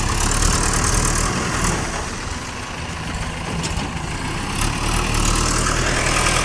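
A tractor engine idles close by, a loud, steady low rumble that runs on without a break and with no talking over it.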